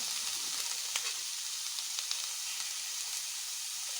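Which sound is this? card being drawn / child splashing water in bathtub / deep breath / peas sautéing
peas sautéing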